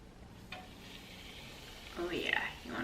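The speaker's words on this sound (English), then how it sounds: "Oh yeah, you wanna hear that sizzle." Buttermilk-floured chicken breast lowered into hot frying oil, giving a faint hiss at first that swells into a louder, close sizzle near the end, with no voices.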